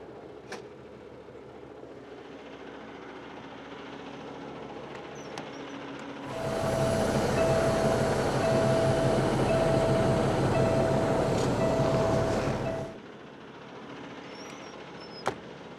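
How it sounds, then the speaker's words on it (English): Semi truck tractor moving after uncoupling from its trailer, a loud rumbling engine drone swelling in for several seconds then dropping back to a quieter idle background. "I'm now just gonna move my tractor over to an offset position"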